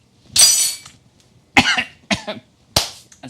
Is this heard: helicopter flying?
no